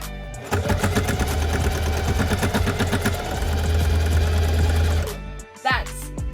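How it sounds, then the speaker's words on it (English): A Singer sewing machine, used to make sailboat curtains, whirs nearby in a fast, steady mechanical rattle for about five seconds before stopping, followed by a short vocal sound. "remember when I tried to do one of these sewing machines, a Singer,"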